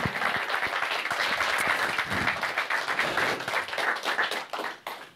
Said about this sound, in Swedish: Och jag tycker vi ger Johanna en applåd för alla bilderna.